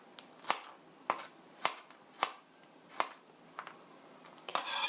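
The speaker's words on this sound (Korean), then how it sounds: "마늘 3쪽은 옆으로 이렇게 얇게 슬라이스 해주세요." A knife cuts thin slices from garlic cloves, producing a series of crisp, distinct taps on the board at an uneven pace, fairly close and quiet, with no talk.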